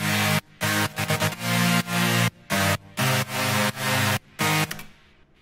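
A layered synth part from an Ableton remake of a track, built from three layers plus a rack of five more. Loud, dense sustained chords arrive in choppy rhythmic bursts separated by short gaps, then trail off at the end.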